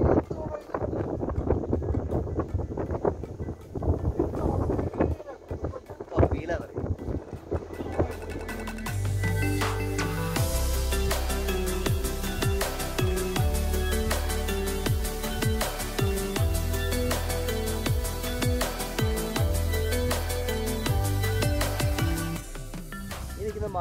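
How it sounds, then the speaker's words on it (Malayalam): Strong wind buffets the microphone at the Ramakkalmedu hilltop viewpoint, rough gusty roaring for the first few seconds before a steady music bed takes over and the wind sinks beneath it. "ഇവിടെ കാറ്റാണ്, ഭയങ്കര കാറ്റ്."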